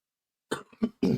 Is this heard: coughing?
yes